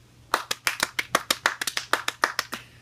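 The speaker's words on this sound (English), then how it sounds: "The first thing you do is clap your hands" A single person claps hands in a steady, fairly quick rhythm, about fifteen crisp claps close by with no talking, demonstrating applause after a performance.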